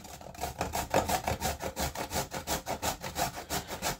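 A carrot is rubbed up and down a grater for coleslaw in a fast, regular rhythm of rasping strokes, about four per second, close and clear with no talking.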